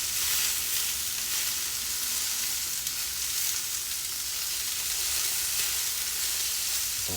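Food frying in a pan: a loud, continuous, close sizzle with bright hissing crackle that holds steady throughout, with no voices.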